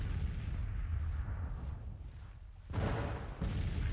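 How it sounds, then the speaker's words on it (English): Artillery fire against the enemy in the Civil War strategy video game Grand Tactician: The Civil War, a dense rumbling roll of cannon booms with a sharper blast near the end. "we are firing on the enemy."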